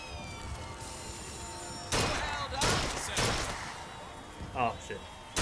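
Several sharp, loud gunshots crack out one after another at targets in a Bioshock Infinite shooting gallery game, with broadband bursts over a steady background hum and a brief chiming game effect near the end.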